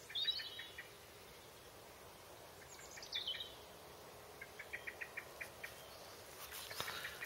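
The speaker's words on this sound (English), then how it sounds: "I love to hear the birds." Birds call in a garden at night under a full moon: faint, distant high chirps come in short clusters and quick pattering series over a quiet, hissy background.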